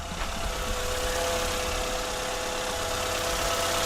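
Car engine idling after a cylinder 2 misfire was fixed by replacing fuel injectors, giving a steady, even running drone with a light ticking texture, close and constant with no talk.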